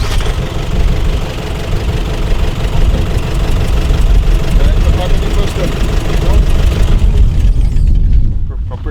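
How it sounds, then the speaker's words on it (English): Rally car engine idling roughly with a misfire, a close, steady, uneven rumble with knocking irregularities that cuts off near the end. "Sounds like the car's misfiring as well."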